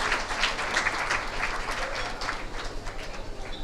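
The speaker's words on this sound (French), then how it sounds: "je vous prie vraiment de les acclamer, de les applaudir" Audience applause at an anniversary ceremony for a management school, a short burst of crowd clapping heard from some distance, fairly even throughout.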